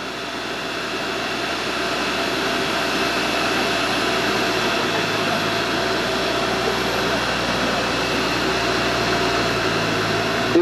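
A Friuli crop sprayer runs with a loud, steady engine drone and broad whirring hum as its spray panels move, unchanging throughout with a brief rise at the very end.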